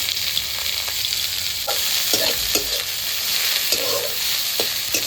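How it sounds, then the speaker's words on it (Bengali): Chopped onions fry in oil with cumin, a dried chili and a bay leaf, giving a constant close sizzle broken by several sharp scraping stirs of a utensil in the pan. "পেঁয়াজগুলোকে ভাজা ভাজা করে নেব।"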